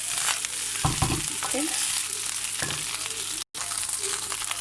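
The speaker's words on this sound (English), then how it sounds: "So this is how I'm going to fry it now. I'm going to stir together like this for about 3 minutes." Coconut fried rice being stir-fried in a pan, giving a close, continuous sizzle with rhythmic scraping stirs and a brief spoken word partway through.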